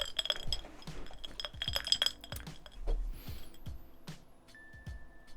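Ice cubes and glass clink repeatedly in a gin cocktail, a quick series of bright, close taps and rattles at a soft level, with no talking over them.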